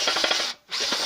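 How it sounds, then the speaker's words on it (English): A power drill runs at low speed and high torque, boring through the steel parts of a homemade ATV/UTV snow plow. Its steady grinding whir comes close and loud in two bursts split by a brief pause. "I got my drill on low speed, high torque."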